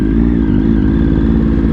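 A motorcycle engine idles steadily at a fairly high, constant pitch, higher than its normal idle, loud and close, with no change in speed.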